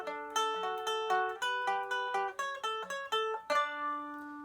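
A mandolin plays bright plucked notes one after another in a steady melodic run from an allemande, ending on a sustained higher note, played alone without talk.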